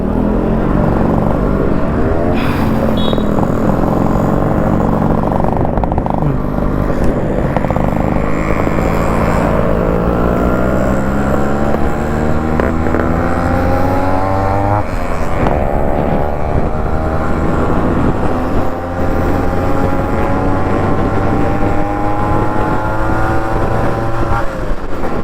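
A roadside convoy sets off on the road from Chittoor toward Dharapuram. Loud engines hum close by and steadily, their pitch rising and falling as the vehicles move off together, and no one talks.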